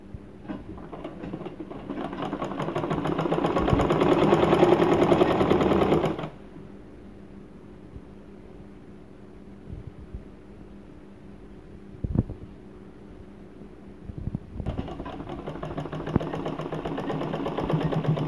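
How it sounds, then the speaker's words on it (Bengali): Sewing machine stitching the sleeve of a kameez, a loud run of rapid mechanical stitching that stops partway through, a quiet pause with a couple of small clicks, then stitching starting up again. "এভাবে হাতা সেলাই করে নেবেন।"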